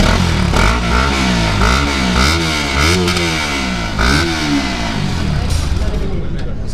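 A Bajaj Pulsar RS200 motorcycle with its stock exhaust removed revs loudly up close in several quick throttle blips, each rising and falling, over a rough, burbling idle.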